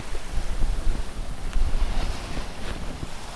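Steady wind rush and wash of the sea aboard a single-handed sailboat offshore in 14 to 15 knot winds, with broadband buffeting on the microphone and occasional swells of water noise, continuous throughout with no voices.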